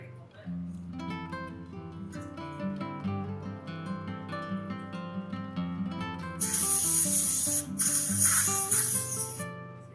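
A hiss of cleaner spray bursts out on a skid steer over a background of music, lasting a couple of seconds with a brief break.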